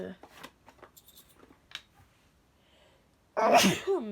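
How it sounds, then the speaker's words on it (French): A loud, sudden sneeze from a woman during a French makeup tutorial bursts out after a stretch of quiet speech, followed by a brief trailing breath. "excusez-moi, j'ai éternué."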